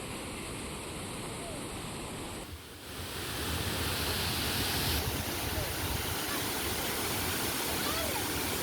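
A roaring Malnad waterfall in Chikkamagaluru sends out a loud, continuous rush of falling water that dips for a moment and then returns fuller and steady.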